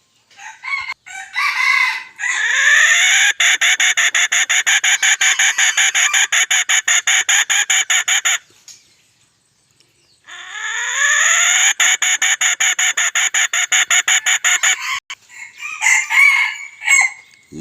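A rooster crows loudly and close by, two long drawn-out crows separated by a short pause, with brief clucks before and after.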